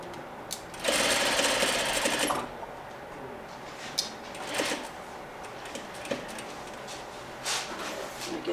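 A domestic sewing machine stitches a chair slip cover in short runs, one sustained buzzing burst followed by several brief stitching spurts and pauses, fairly close and moderately quiet.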